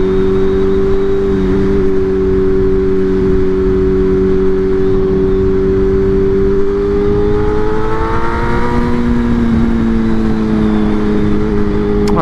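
A BMW M1000R Competition superbike runs at high revs in third gear, a steady loud engine whine that rises and shifts pitch late on, heard close with wind noise.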